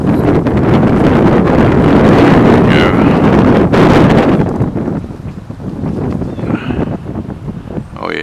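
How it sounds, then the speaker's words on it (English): Strong north-northwest wind buffets the microphone outdoors near a small wind turbine in Southern Virginia, a loud continuous roaring rumble that eases slightly partway through, with a few faint higher tones. "Wind's blowing out of north northwest. She's kicking."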